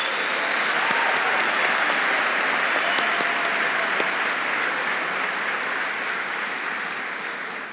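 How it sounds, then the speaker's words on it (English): An audience gives a sustained round of applause at a white coat ceremony for new medical students, a dense wash of clapping that holds steady throughout and fades only slightly at the end. "Round of applause for them."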